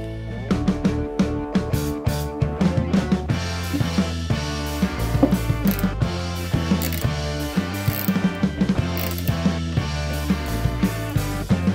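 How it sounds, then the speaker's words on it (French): A ratchet screwdriver drives screws into a Kub Spaceo storage shelf from Leroy Merlin, making rapid, loud clicking in repeated bursts throughout. "pour finir de visser, il vous faut un tournevis où on peut rajouter l'embout."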